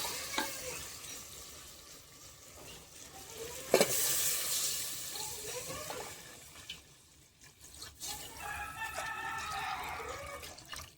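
Water is added to crab curry cooking in a pan, making a faint, soft sizzle and splash with occasional stirring clinks and a brief louder scrape partway through.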